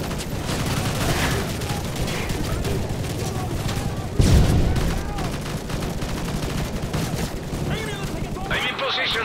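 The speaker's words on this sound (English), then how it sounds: "Lay down covering fire so we can move up the road!" Sustained automatic gunfire lays down covering fire in Call of Duty: Modern Warfare 3, a dense, loud, continuous rattle of shots with a heavier burst midway, with no gaps.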